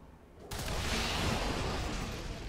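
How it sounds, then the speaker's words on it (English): An enemy in XCOM: War of the Chosen bursts apart in a game explosion on death, a sudden loud blast after half a second of quiet that rumbles on in a dense, sustained roar with no voices. "the loud explosion draws a lost swarm closer"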